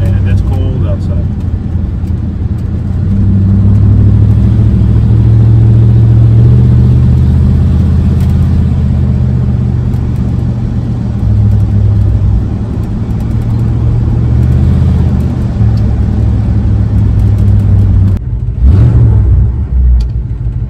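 A 400 hp bullnose Ford engine on a cold drive rumbles loudly and close, its revs rising and falling through gear changes over a steady deep drone.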